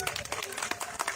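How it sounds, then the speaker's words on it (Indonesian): An audience at a political gathering in Senayan claps in a dense, steady patter throughout this short stretch, mixed with crowd noise and a voice speaking. "kita berikan tepuk tangan yang meriah"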